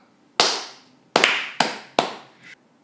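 Four sharp hand claps, close and crisp, spaced unevenly with a quick double hit on the second, each ringing out briefly in a quiet room.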